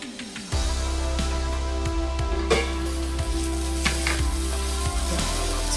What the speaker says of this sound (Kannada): ಸೊ ಇವಾಗ ನಾನು ಕಾರ್ನ್ ಫ್ರೈ ಮಾಡೋದಕ್ಕೆ ಇಟ್ಟಿದ್ನಲ್ವ, ಅದು ಹೇಗಾಗಿದೆ ಅಂತ ನೋಡೋಣ ಬನ್ನಿ.